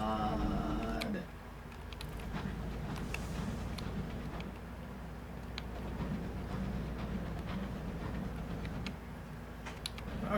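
A sky locomotive in the Sunless Skies video game chugs and rumbles steadily in a low continuous drone with faint ticking and clicking over it, no voices.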